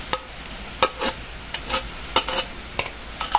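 A spoon stirs a thick cassava mixture just after condensed milk is added, making sticky scraping strokes in an irregular rhythm, close and clear, with no talk.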